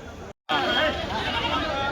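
Seven-month-old young rams bleat close by in a wavering cry after a brief cut, against a busy background of voices and livestock at the weekly Kadiri sheep and goat market.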